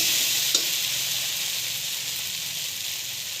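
Curry sautéing in a pan over the stove, a steady close broadband sizzle with faint scraping stirs, one sharper clink early on, no voices.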